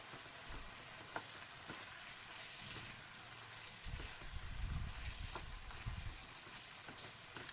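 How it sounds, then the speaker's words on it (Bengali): Pre-fried paneer pieces go into a pan of winter vegetables and sizzle with a low, steady crackle. The sound swells briefly midway as the pieces are stirred in, all fairly faint and with no voice over it. "এইবার এর মধ্যে আমি দিয়ে দিচ্ছি ভেজে রাখা পনিরের টুকরো।"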